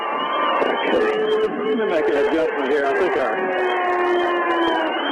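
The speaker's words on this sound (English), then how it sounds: "we got the crowd noise coming a little too much" Crowd noise at a high school football game as the Vikings take the field, a dense roar of cheering and babble from the stands sitting under a commentator's voice talking close to the microphone.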